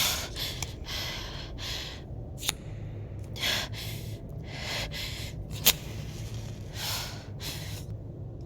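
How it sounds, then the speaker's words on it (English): A character in the video game Life is Strange: True Colors breathes hard, with a series of heavy, gasping inhales and exhales in an irregular rhythm, close and fairly faint, with a couple of sharp clicks between breaths. "You breathing all extra hard"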